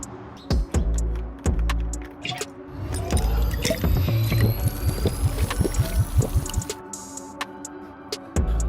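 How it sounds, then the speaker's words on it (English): Yellow coolant is poured into a car engine's coolant reservoir, a steady trickling gurgle of several seconds framed by plastic clicks and taps of the container and cap. "Let's go ahead and top up this coolant before my engine overheats"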